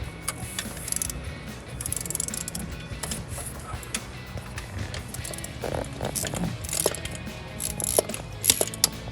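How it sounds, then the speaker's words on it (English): A wrench snugging up an iridium spark plug in a RAM 1500 engine, with irregular close metallic clicks and ratcheting taps over a low background rumble. "snug it up with your wrench"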